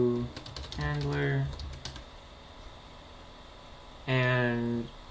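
Computer keyboard keys click softly as Java game code is typed, the light tapping sitting mostly under a person talking.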